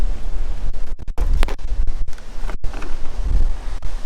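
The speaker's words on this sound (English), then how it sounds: "It's getting a bit windy now." Strong gusty wind buffets the microphone outdoors at a campsite beside a Suzuki Jimny JB74, a loud continuous roar with rustling and brief dropouts, no voices heard.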